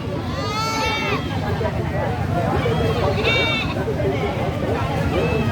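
A goat bleats twice, loud and near, amid a busy crowd murmur and people haggling over prices at a cattle and goat market in Pabna, Bangladesh.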